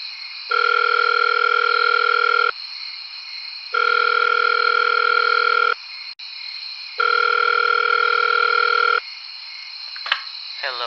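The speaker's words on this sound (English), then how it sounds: "Ringing." A telephone rings in three long electronic bursts separated by pauses, loud and close, ending with a brief click and a faint voice as the receiver is lifted.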